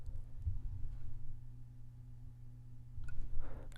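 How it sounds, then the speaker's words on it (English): A steady low-pitched hum from a ceiling fan in the room below, heard through the floor, drones throughout, faint and constant, with a slight rise in rumble near the end; no voices. "you can hear the background noise, the low end hum. I think the neighbor below me has their ceiling fan on"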